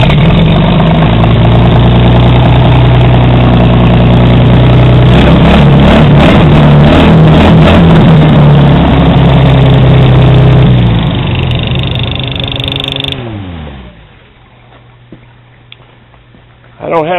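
A 1932 Chevy rat rod truck engine with no muffler runs loud and rough at a steady idle with some revving, then winds down and cuts off, leaving near silence and a brief clunk at the end; a voice speaks over the start.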